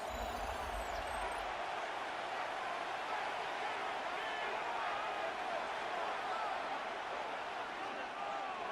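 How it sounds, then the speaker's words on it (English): Stadium crowd in the Madden 26 American football video game builds as a broad, steady roar of cheering through a third-down play, with faint commentary beneath it. "This crowd into it now as we get to 3rd down."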